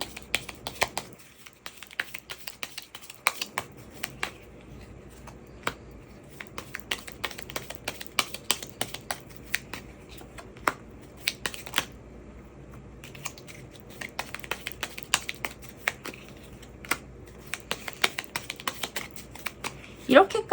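Tarot cards are shuffled and handled in close, crisp bursts of riffling and flicking clicks, recurring in clusters over about twenty seconds.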